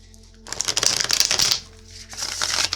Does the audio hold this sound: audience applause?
no